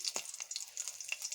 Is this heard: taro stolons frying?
yes